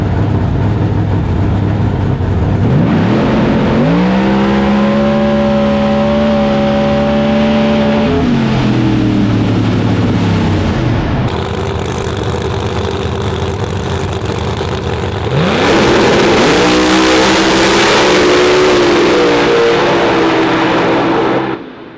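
Pro Boost drag race cars, a Ford Mustang and a Chevrolet Camaro, rumble loudly at the line, rev in rising surges, settle back, then roar off together in a loud full-throttle launch.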